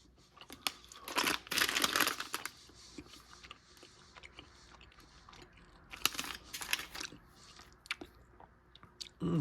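Gummy bears in a few different colors being chewed close up, with wet, squishy bursts of mastication coming in uneven clusters and short pauses between bites.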